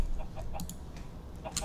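Minecraft chickens give a few soft, brief clucks scattered over low background noise, faint and with no talk.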